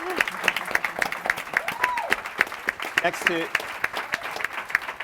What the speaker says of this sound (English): I heard someone about to give Debbie Allen a round of applause